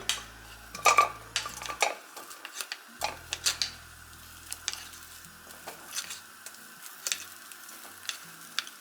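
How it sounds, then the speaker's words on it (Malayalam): Cooked tapioca tipped into a pan: scattered clatters, knocks and scrapes of a utensil on metal, quiet between bursts with a faint sizzle, close by and without talk. "ഇനി നമുക്ക് ഇതിലേക്ക് വേവിച്ച കപ്പ ഇട്ട് കൊടുക്കാം ആദ്യം."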